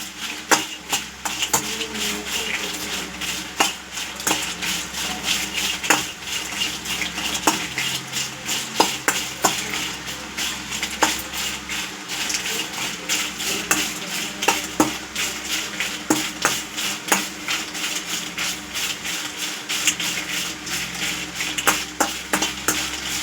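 Salted fish frying in a pan over a low flame, with a steady soft sizzle and repeated scraping and stirring clatter of a utensil against the pan throughout, no talking.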